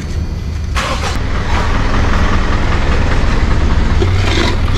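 A motorcycle engine runs close by in a loud, steady idling rumble that continues without a break, with no talking.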